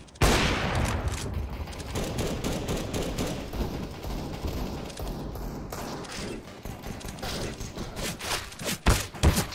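CS:GO gunfire: a long, dense burst of rapid automatic shots with thuds mixed in, loud and continuous for most of the stretch before breaking into scattered heavier shots near the end.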